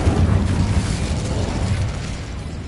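An Incendio fire spell erupts in Hogwarts Legacy combat, a loud, dense roaring blast of flame that holds steady and slowly tapers over a few seconds.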